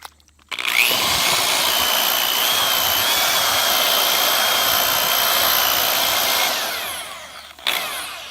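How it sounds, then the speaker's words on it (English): A loud, steady high-pitched whine of a drill with a paddle mixer running continuously for several seconds, with a gritty churning of cement underneath, then winding down and stopping. "get yourself a drill with a nice little cement mixer right here"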